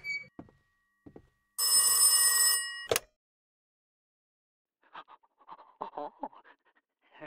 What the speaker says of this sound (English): It's the red phone.